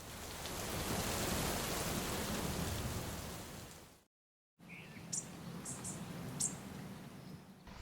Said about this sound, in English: The mild spring rain was just starting, filtering through the tree leaves above.